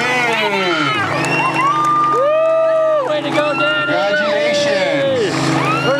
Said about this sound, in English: Big round of applause from California, Danny Ching.